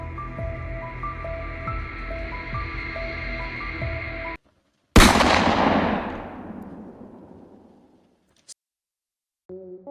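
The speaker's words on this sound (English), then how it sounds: "Suddenly, a shot rang out" A single sharp, deafening gunshot rings out after a stretch of steady background music, then a long echoing decay trails off into near silence, with no talk.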